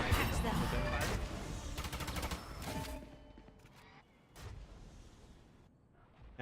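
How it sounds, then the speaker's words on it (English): Gunfire in the video game Valorant during a collegiate esports match, heard as dense rapid bursts of shots followed by quieter scattered pops, with a commentator talking over it. "He hears some gunfire."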